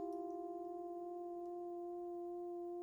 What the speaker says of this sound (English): you can hear the chord being held static and then just very slowly start to oscillate